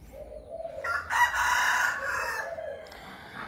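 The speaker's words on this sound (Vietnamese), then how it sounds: "gia chủ thì cũng đang chăn nuôi một số gà nha anh chị" Chickens kept behind a rural house in the Mekong Delta, with a rooster giving one loud, drawn-out crow near the middle against faint clucking and outdoor background.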